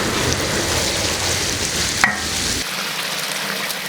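Last year's frozen tomatoes stir-fry in a pan until their juice comes out. A loud, steady sizzle plays up close, a sharp utensil scrape cuts in partway, and then the frying settles quieter.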